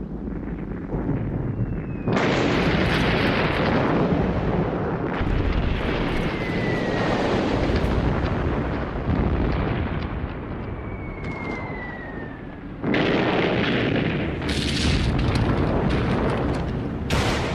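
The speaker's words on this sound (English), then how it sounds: "An artillery barrage to soften up enemy positions would precede the infantry attack." World War I artillery barrage rendered as a continuous heavy roar of booms and rumbling blasts, with several sudden louder surges and a few whistling shell sweeps, dense and sustained throughout with no voices.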